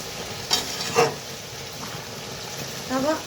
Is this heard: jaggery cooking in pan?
yes